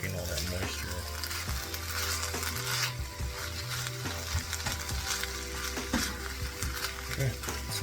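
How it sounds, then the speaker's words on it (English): Food sautés and then frying takes hold in a pan, a steady bright sizzle that keeps going throughout, with the occasional stir and scrape mixed in at close range. "you can hear the difference between when it's sauteing and then when it gets to the point where it's going to want to start frying"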